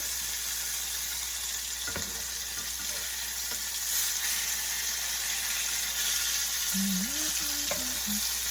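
Catfish fillets frying in a pan give a steady, close sizzle of hot oil that runs evenly throughout, with a few faint clinks and a brief bit of background tone near the end.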